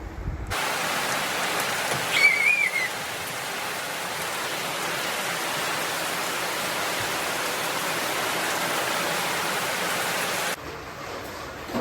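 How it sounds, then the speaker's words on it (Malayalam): Steady rain falls for most of the span, an even, dense hiss with no voices, then cuts off abruptly near the end. "അവിടെ നിന്നൊരു രണ്ട് മിനിറ്റ് കഴിഞ്ഞപ്പോഴേക്ക് തന്നെ അത്യാവശ്യം നല്ല രീതിയിലുള്ള മഴ പെയ്തു തുടങ്ങി"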